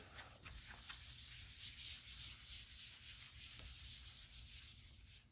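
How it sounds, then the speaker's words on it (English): An eraser rubs back and forth on paper in a steady, continuous scrubbing, quiet and close, with no talking. "Let me find my eraser."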